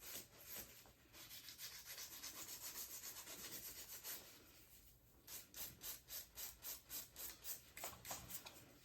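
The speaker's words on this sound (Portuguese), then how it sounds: "Eu vou lixando e já tirando o pó." A nail file sands a fingernail during a Russian manicure, a soft close scraping that runs steadily at first, then turns into quick regular back-and-forth strokes, with no talking.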